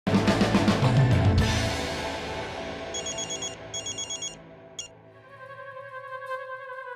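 A phone ringtone trills in repeated electronic bursts, loud and close, over a busy musical background that fades as the ringing continues.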